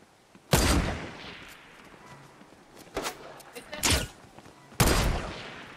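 Several sharp, loud gunshots in Fortnite ring out singly with gaps between them, each leaving a short echoing tail, mixed with quieter in-game movement and a voice talking at low level.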